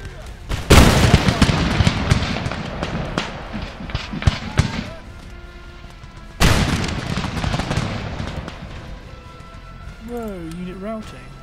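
Musket volleys in an Empire Total War battle, two loud crackling salvos followed by scattered popping shots, with someone talking over the din and distant fire trailing off.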